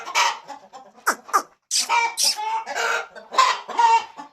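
Hens on an aseel poultry farm cluck and squawk in a series of sharp, bright, close calls with short pauses between bursts, with no talking.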